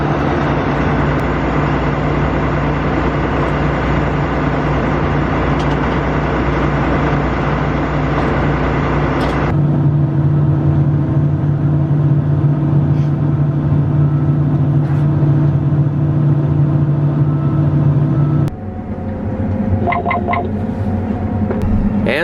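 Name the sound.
farm vehicle driving to the next field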